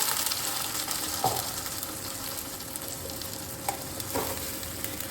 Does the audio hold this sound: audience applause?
no